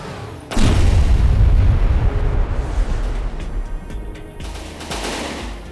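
A cram cannon volley booms in From the Depths, a sudden loud blast followed by a dense rolling barrage of heavy gunfire that gradually thins, with no voices over it.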